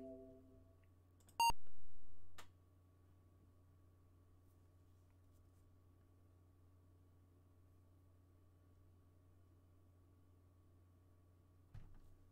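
A single short, sharp electronic beep from the 1979 Apple II game Space II rings out over a steady low hum, followed by a faint click, then only the hum continues.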